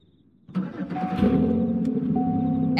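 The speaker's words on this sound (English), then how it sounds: "F again for the engine start." A Chevrolet Cobalt LS engine starts up in a roleplay video game, cranking briefly and then settling into a steady, moderately loud idle hum with a faint tonal whine.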